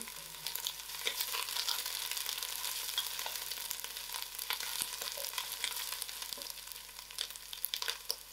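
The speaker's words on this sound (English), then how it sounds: "To this I had my whole jeera and my mustard seed. And I allow this to fry." Whole cumin and mustard seeds fry in hot oil with ginger, crushed chilies and curry leaf, a steady soft sizzle with scattered small pops and crackles, close and continuous without talk.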